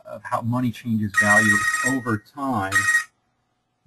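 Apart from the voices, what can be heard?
mobile phone ringing during lecture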